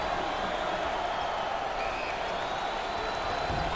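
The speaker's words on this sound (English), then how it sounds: "Full house and a packed crowd, and they are into it tonight." Packed home crowd at an NCAA tournament basketball game, Texas versus Houston, roaring in a steady, dense wash of cheering and applause that fills the arena without a break.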